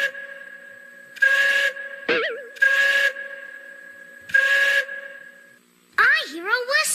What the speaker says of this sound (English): I hear a whistle.